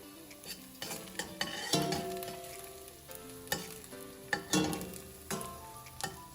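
Cumin seeds hit hot oil and crackle into a sizzle, joined by several sharp metallic clinks and scrapes of a spoon stirring in the pan. The sound is close and fairly quiet.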